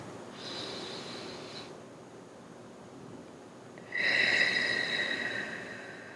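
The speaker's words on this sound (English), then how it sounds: "take a deep breath with me" Two slow, audible breaths, a quieter first inhale followed by a louder, hissing breath close to the microphone, in an otherwise quiet room.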